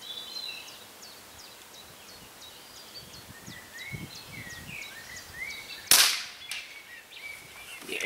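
A Weihrauch HW77 air rifle fires once outdoors, a sharp close crack followed by a short fading tail, with birds chirping steadily in the background before and after.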